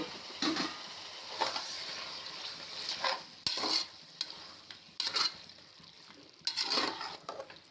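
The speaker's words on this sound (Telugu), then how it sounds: "ఇదైతే వేసి బాగా కలుపుకుందాం" Spices get stirred into a chicken biryani in a pot over the heat, a low sizzle broken by intermittent scraping and clattering strokes of the spoon, close by and without talk.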